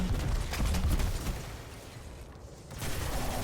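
Gunfire from an enemy champion in the Destiny 2 video game, a Legend Lost Sector fight: dense bursts of shots over constant game noise, loudest in the first second, easing through the middle, then picking up again at the end.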